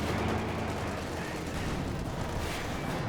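Tank cannon fire amid a World War II battle in Company of Heroes 2, dense and continuous, with booming shots and crackling small arms blending into one loud wash of combat noise.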